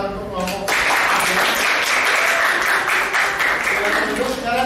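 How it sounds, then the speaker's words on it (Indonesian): A group in a classroom or workshop session applauding another group, the clapping starting abruptly after a brief moment of voice and then continuing as a steady burst of many hands. "Tepuk tangan untuk kelompok"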